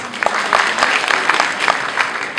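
An audience at a Student of the Year awards ceremony breaks into brisk applause, a lively mass of claps with distinct louder hits, filling the hall for a couple of seconds.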